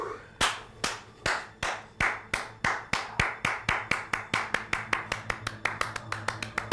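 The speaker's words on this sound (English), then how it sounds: "14 claps per second" Rapid hand clapping, one pair of hands accelerating to about 14 claps per second, each sharp crack close and distinct, the rhythm tightening steadily with no talk.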